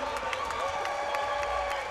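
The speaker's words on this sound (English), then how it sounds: "hey, give her a round of applause real quick." A crowd at the Carter Cox vs. Francisco Juan fight event applauds and cheers, with loud, dense clapping and scattered whoops sustained throughout the short stretch.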